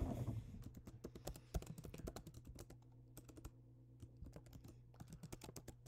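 Rapid, uneven keystrokes on a computer keyboard as a Google search is typed, close and clear, with short pauses between bursts and no voices.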